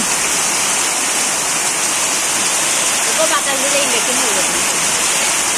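Heavy rain pours down in a dense, constant hiss that fills the whole stretch, with a voice faintly audible underneath for a moment.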